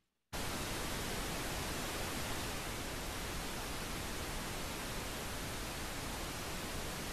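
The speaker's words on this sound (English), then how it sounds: "So, yeah, Pete, go ahead and play that pink noise again" Pink noise test signal played through an EQ plugin starts abruptly after a moment of silence and then holds as a steady, dense, loud hiss for several seconds, with no talk.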